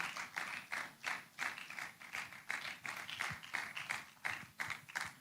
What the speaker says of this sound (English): Let's keep clapping, please